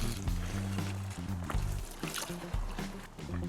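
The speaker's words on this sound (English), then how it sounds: "And fill the rest of the way up with water." Water from a hose filling a storage container for a pool winter cover, with algicide added, a low sloshing gurgle and trickle with uneven pulses, quiet and close.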